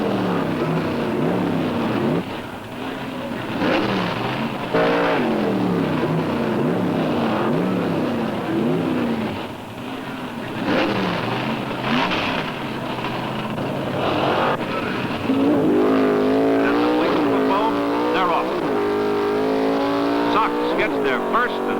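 Two 1971 Pro Stock drag race cars roar down the strip with revving, shifting engine notes that rise and fall, loud and close, under a race announcer's commentary.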